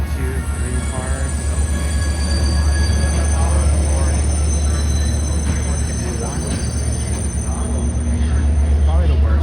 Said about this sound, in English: Alright, so my train is coming in now.